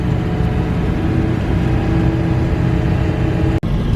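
Pickup truck cruising while towing a trailer, a steady mid-pitched engine drone with road rumble and wind, constant and close from inside the cab, no talking.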